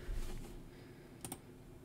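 A few quick keystrokes on a computer keyboard while typing text into OBS streaming software, soft and close in a quiet room with low background hum.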